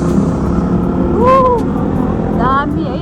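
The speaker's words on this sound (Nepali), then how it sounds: "सुस्मिता चाहिँ बाइक चलाउँदैछ।" A motorbike ridden along a road on a trip with friends toward Chhimkeshwari temple gives a steady, close engine drone, with a few brief high chirps over it.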